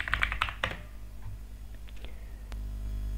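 Typing on a computer keyboard during a REST API coding tutorial: a quick burst of close key clicks at the start, then a few sparse taps over a low steady hum.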